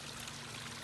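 Water kept flowing in winter so birds can drink, a steady, even trickle and rush running continuously and fairly close, with no voices.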